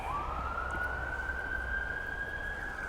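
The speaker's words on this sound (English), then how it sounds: "Hearing a lot of sirens." A single emergency siren wails steadily from a distance along a rural bike trail, a rising then sustained tone lasting the whole stretch over low road rumble, with no talking.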